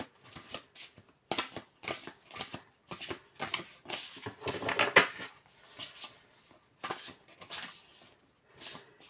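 Tarot cards being shuffled by hand before a single card is drawn, a close series of quick papery riffling bursts separated by brief pauses, with no voices.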